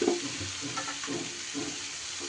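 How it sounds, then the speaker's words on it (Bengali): Soybean chunks tipped into spices frying in a pan for a vegetarian curry give a loud, steady sizzle with soft stirring and shuffling bumps, close and continuous, with no talking. "এইবার আমি দিয়ে দেব সয়াবিনটা"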